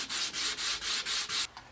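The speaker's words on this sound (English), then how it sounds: "we can give the backs of our shells a little bit of a sanding" Sandpaper rubs back and forth over the backs of small wooden fridge magnet shells, making six even, close, fairly loud strokes in a steady rhythm before stopping.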